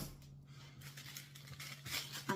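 A few quiet snips of scissors cutting through tape, close up, with faint rustling between the cuts.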